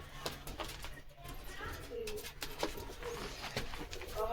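Young Andhra/Madras pigeons cooing close by, soft low throaty coos repeating under a faint background hum and occasional voices.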